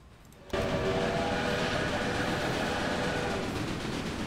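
A 10-wheeler train in the Railway Empire game starts up abruptly and keeps up a loud, continuous engine rumble with a faint sustained whistle-like tone, with no talk.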